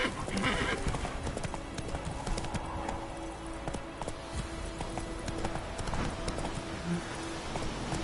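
Hoofbeats of a horse named Razor from The Witcher 3 clip-clop steadily at a gallop, with a brief whinny near the start and a short spoken voice partway through.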